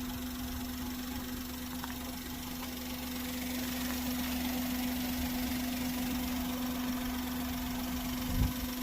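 A 2011 Maruti Alto K10 hatchback engine idles steadily with a low, even hum and faint knocking vibration, running continuously near the microphone without speech.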